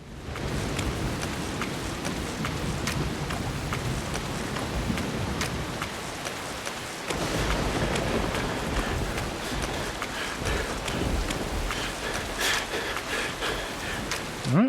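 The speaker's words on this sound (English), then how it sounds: "I feel like the rain is heavier, harder to see." Heavy rain pours steadily in the video game No One Lives Under the Lighthouse, a dense, loud, continuous hiss with scattered pattering and footstep-like thuds, thunder not evident.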